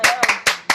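Short bursts of clapping from a church congregation cheering for the Lord, four quick rhythmic pulses with a voice audible between them, fairly close and lively.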